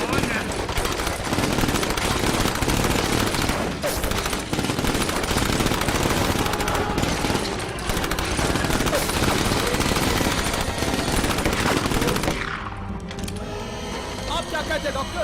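Film gunfire as everyone shoots at once, a dense, loud, continuous barrage of rapid shots that cuts off abruptly near the end, leaving a quieter tail with voices.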